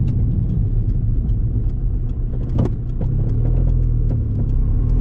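A Seat Ibiza 1.9 TDI diesel engine with 376,000 km rumbles and revs steadily up close, low and throaty, with a few brief mechanical ticks over the drone.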